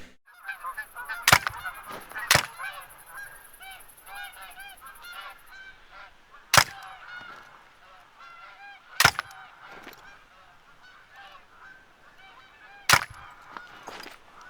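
Geese honking in a goose hunting video game, a flock calling repeatedly in overlapping nasal honks, punctuated by several sharp loud gunshot-like cracks.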